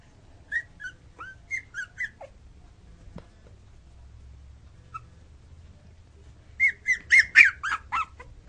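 A one-month-old puppy fusses with high, squeaky whimpers and yelps in short bursts, a few at first, then a louder cluster of rapid cries after a quiet pause.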